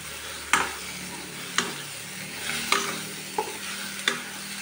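Spoon stirring salt, turmeric and chili powder into tomato, green chili and onion frying in a pan, with five distinct scraping strokes over a soft steady sizzle, close and fairly quiet, no voices.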